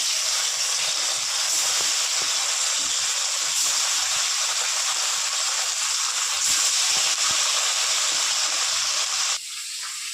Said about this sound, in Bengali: ওই তেলে যে কটা মাছ আছে বাদ বাকি মাছগুলো ভেজে নেব